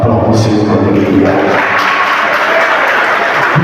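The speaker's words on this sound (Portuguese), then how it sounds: "Aplauda o Senhor com alegria" A church congregation applauds together during a family worship service, a dense, steady wash of clapping that holds at full volume throughout, with a voice mixed in beneath.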